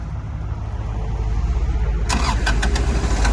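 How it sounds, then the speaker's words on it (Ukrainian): An Iseki Sial 193 Japanese mini tractor with a warmed glow plug turns over and fires, a low rumble that catches about two seconds in and settles into a close, steady chugging idle. "На теплу свічку заводиться досить легко."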